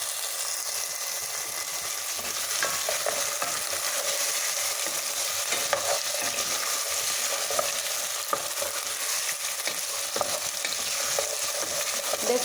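Potato chunks fry in hot oil with cumin seeds, a steady loud sizzle running throughout while a utensil stirs them with soft intermittent scraping; no voices.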